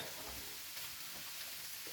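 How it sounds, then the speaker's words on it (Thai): Diced potatoes stir-fried in a pan, a soft continuous sizzle with faint scraping and stirring, quiet and steady with no speech. "ขั้นตอนต่อไปเราจะเริ่มใส่มันฝรั่งหั่นเต๋าค่ะ ลงไปผัดนะคะ"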